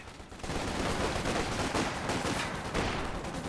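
Rapid battlefield gunfire and thudding blasts from infantry guns and mortars in Company of Heroes 2 rattle on continuously after a brief quieter start, a dense, moderately loud barrage with no talking.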